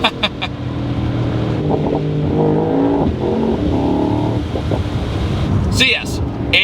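Mercedes AMG GT 63 accelerating hard, a loud, continuous engine roar with rising revs heard from inside the car, with a brief gear-change interruption near the end.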